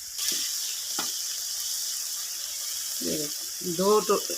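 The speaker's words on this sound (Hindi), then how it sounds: "मिनट तक भूनती रहूँगी गोश्त और लौकी को" Mutton and bottle gourd frying in a pot, a steady bright sizzle throughout with a few stirring scrapes, close up, while someone talks over it near the end.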